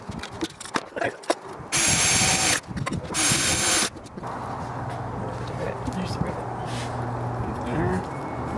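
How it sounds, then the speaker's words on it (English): A power drill bores holes through an antenna mount during fabrication, two loud bursts of whirring drilling roughly a second long each, followed by a softer steady mechanical hum, with a person talking at the start. "drill out those inside ones, cleco those, and then drill the outsides."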